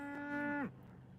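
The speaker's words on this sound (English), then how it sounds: "they're mooing at each other" Cattle low outdoors in a pasture just outside Westcliffe, near the mountains. A single clear, fairly faint moo holds a steady tone, then drops sharply in pitch at the end before quiet returns.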